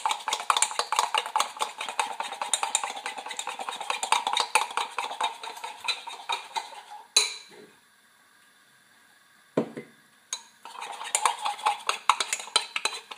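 A utensil scrapes and taps rapidly against a bowl as strawberry mousse mixture is stirred, a dense close clatter that pauses briefly with a couple of clinks before resuming.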